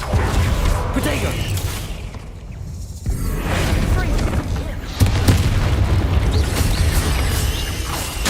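Bombarda spell explosions in Hogwarts Legacy: deep, rumbling booms with creaking, mechanical debris burst out over ongoing combat, and a voice shouts over the noise.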